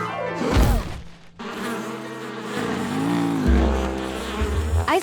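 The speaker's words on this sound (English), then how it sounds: "The bees are protecting their home." Cartoon bees swarming around their hive make a buzzing, droning hum that rises and wavers, with whooshing swells and shifting pitch across a few seconds, loud and close, with no talking.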